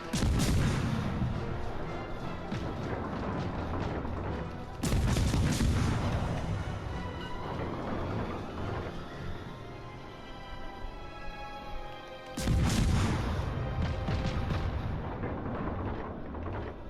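Naval artillery fires in the World of Warships Legends game, with three heavy booming salvos spaced several seconds apart, each followed by a rolling rumble and decaying echo under ongoing battle ambience.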